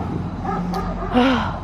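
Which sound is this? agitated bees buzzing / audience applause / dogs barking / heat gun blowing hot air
dogs barking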